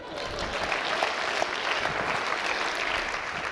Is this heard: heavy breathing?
no